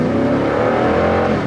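A 2018 Toyota Sequoia's 5.7-liter V8 runs with a steady, loud, throaty engine rumble and mild revving, close up and continuous with no pauses or voices.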